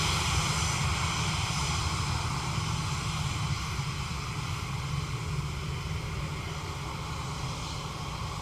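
On a rainy day at Dublin Airport, an airliner's engines hold a steady, moderately distant broadband roar, even and unbroken throughout with no voices.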